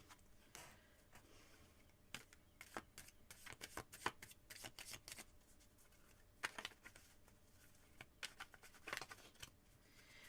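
Quiet, crisp flicks and riffles of playing cards being shuffled, in short irregular bursts close by.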